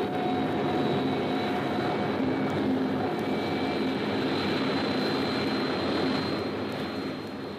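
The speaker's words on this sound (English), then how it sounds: "is an enemy bomber." An enemy jet bomber carrying an H-bomb drones overhead in a radio drama effect, a steady, loud, broad engine roar that holds evenly throughout and eases slightly at the end, with no voices.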